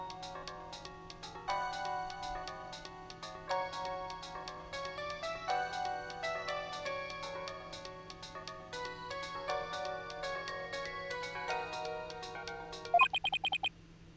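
A phone ringtone melody plays in Ace Attorney: Dual Destinies. It is a steady, plucky electronic tune with ticking beats, moderately quiet, and ends in a short burst of higher tones.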